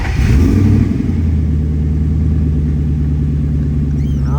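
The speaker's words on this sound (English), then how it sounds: "Great sounding car." A 1965 Ford Daytona replica (Factory Five build) with straight headers to side pipes revs loudly up front, then settles into a steady, fairly sedate engine drone throughout.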